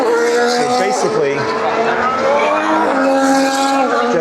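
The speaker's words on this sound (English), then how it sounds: "when the car comes out of the pit for the first time, they're doing a slow lap" Formula 1 car engines at the Circuit of the Americas in Austin, a loud, continuous high-pitched whine with shifting, overlapping tones as cars leave the pit for a slow lap, while a voice talks underneath.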